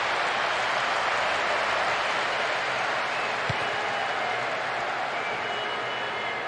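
Steady broad roar of a vast stadium crowd close to the pitch in a football video game, an international match, continuous and loud throughout with no talk.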